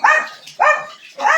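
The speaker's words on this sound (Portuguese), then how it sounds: "Os dois cachorrinhos." Two small dogs barking at home, three sharp close yaps spaced about half a second apart, loud and clear with no talking.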